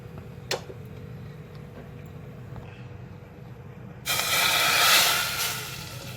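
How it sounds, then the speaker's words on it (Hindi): Hot oil with paprika powder poured as a tempering onto beef dal gosht: a sudden burst of loud, broadband sizzling begins partway through, hissing steadily for a couple of seconds and then slowly fading. "अब हम ये ऑयल और पेपरिका पाउडर का तड़का लगा देंगे।"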